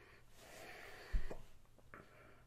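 A person sniffs a glass of Italian-Irish dry stout beer, with a short sharp intake of breath up close followed by a couple of softer sniffs against a faint background hum.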